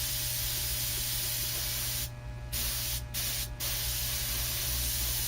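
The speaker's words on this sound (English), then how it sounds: "I'll just keep steady pressure and just mist the spoon with the Spaz Stix" Spaz Stix chrome spray paint hisses out of a can as a steady, continuous mist onto a spoon, close up, broken by a few short pauses in the spray.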